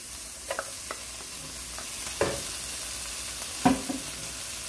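Chicken pie filling with peas and fresh herbs sautés in a pan with a steady, close sizzle, and a few scattered stirring clinks from a utensil come through.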